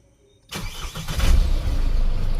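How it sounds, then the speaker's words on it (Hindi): A Force Toofan engine cranks on its self-starter with the clutch held down after a brief silence, catches, and settles into a loud, steady idle. "मैं क्लिच दबाया हूँ, आप सेल्फ मार दो।"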